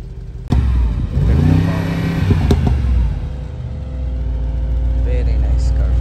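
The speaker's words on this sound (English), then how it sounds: "Can you make exhaust? No, noise exhaust." A Mercedes-Benz G63 in Nardo Gray with the Night Package revs its exhaust after a sharp start, a deep engine roar rising and settling to a steady idle nearby, with people talking around it.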